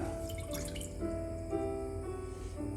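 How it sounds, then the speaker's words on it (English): Water, 85 grams of it, poured into a pot for a 28-degree Baumé sugar syrup for a frozen Grand Marnier soufflé; a steady trickling, dripping stream, close and moderately loud, with no talk. "For that, I add my water, 85 grams,"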